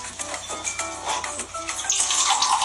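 Water pours from a water purifier dispenser in a home, a steady splashing stream that brightens and hisses louder toward the end, close by with no talking.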